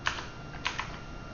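Computer keyboard keys, the cursor keys used to navigate a Linux terminal file manager, are pressed in a few distinct close clicks over a steady background hiss, with no talking.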